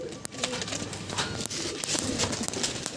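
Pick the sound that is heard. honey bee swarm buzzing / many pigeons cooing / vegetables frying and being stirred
many pigeons cooing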